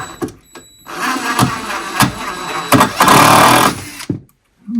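A power driver sets screws at an angle to toenail a wooden stud while a walk-in shower bench and pony wall are framed. Loud, close whirring bursts start and stop several times, then end in silence.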